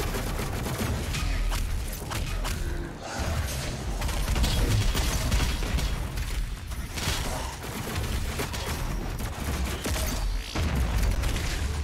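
Explosions and rapid gunfire from combat in the game Doom Eternal, played on Nightmare difficulty; dense, loud bursts of shots and booms run continuously with brief dips, no voices.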